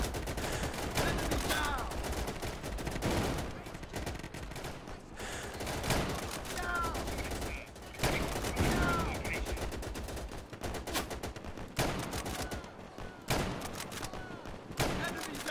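MG42 machine gun fire in the World War II video game Easy Red 2 at the Battle of Anzio, dense rattling bursts and scattered gunshots throughout, loud and close, mixed with other battlefield firing.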